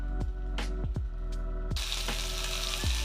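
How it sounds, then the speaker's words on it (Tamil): Butter chicken frying in a covered pan over a medium flame, a steady sizzle broken by several sharp pops and crackles, rising into a brighter, fuller hiss partway through. "மீடியம் ஃப்ளேமில் வச்சுட்டு நல்லா மூடிடலாம் அப்படியே வெந்துக்கிட்டு இருக்கும்"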